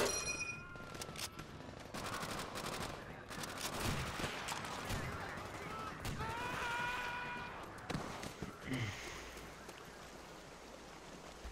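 Gunfire in the World War II shooter Call of Duty: World at War comes in sharp, rapid bursts and scattered shots, moderately quiet, with brief pauses between volleys.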